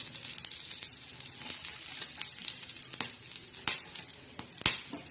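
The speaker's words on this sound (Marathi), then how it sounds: "खडा मसाला बी असा छान असा असं भाजून घ्यायचा" Whole spices roast in a pan, giving a steady, close sizzle and crackle with scattered sharp pops and occasional scraping stirs, with no talking.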